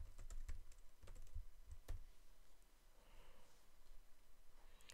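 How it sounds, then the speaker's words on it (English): Rapid typing on a computer keyboard, with a dense run of clicks over the first two seconds, then a few scattered taps against quiet room tone. "Oh man, I can't even type right now."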